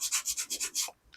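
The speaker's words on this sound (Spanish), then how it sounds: "Igual vamos a pasar un poquito nuestra lija" Sandpaper rubs over a small handmade fly fishing popper head in about seven quick, even back-and-forth strokes, close and crisp, then a pause and the start of another stroke.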